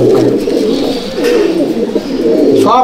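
Ustadji-flown pigeons in a loft keep up a loud, close, overlapping stream of low cooing, with a brief higher chirp right at the end.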